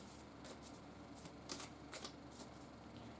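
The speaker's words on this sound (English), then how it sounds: "I want to give these cards a good shuffle." Tarot cards are shuffled by hand close to the microphone, quiet papery riffles and flicks coming in short bursts with brief pauses between, with no voice over them.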